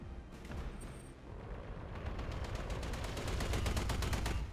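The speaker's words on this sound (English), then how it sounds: "this AC-20 shot that's coming up is going to be scary" Autocannon fire from an AC-20 in the mech combat video game Battletech: a loud, dense burst of rapid gunfire impacts and booms that builds in intensity, with no talk over it.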